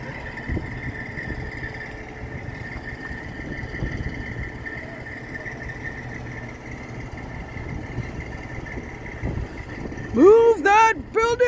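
Engine of a truck or crane rig moving an old restaurant building rumbles steadily at low idle with faint revving, and people talk over it before a burst of louder voices near the end.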